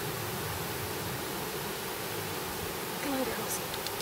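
A honeybee swarm outdoors in summer heat gives a dense, continuous buzz that fills the whole clip evenly, with a brief louder flare near the end.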